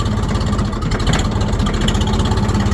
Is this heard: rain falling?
no